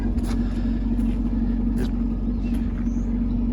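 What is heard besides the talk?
2017 Chevrolet Camaro Fifty car running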